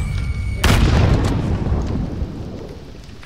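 A grenade explodes in Warzone on Caldera: one sudden, loud, close blast that leaves a long rumbling decay fading over about two seconds.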